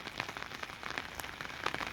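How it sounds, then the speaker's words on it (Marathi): Light rain falls over flooded rice paddies in a village, a faint, steady patter with scattered individual drops ticking and pattering softly throughout. "पाऊस थोडा थोडा चालूच आहे"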